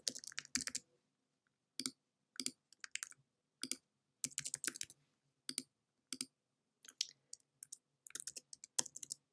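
Computer keyboard typing in quick irregular bursts of crisp clicks separated by short pauses, close and clear in an otherwise quiet room, with no voices.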